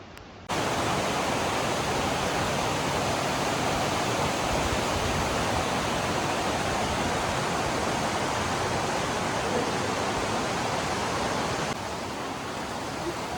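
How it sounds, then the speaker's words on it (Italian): A mountain torrent rushes through the narrow Serrai di Sottoguda canyon in the Dolomites, making a loud, steady roar of water that stays constant without a break. "Ecco qui il torrente si allarga"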